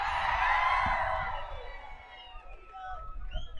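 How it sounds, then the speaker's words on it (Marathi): A big crowd at an outdoor political rally roars and cheers for actor Riteish Deshmukh, loud at first and then fading into a lower din with scattered shouts and whistles. "एकदा जोरदार टाळ्या होऊ द्या रितेश दादासाठी."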